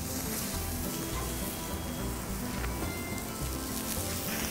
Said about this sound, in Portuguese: Selar na chapa.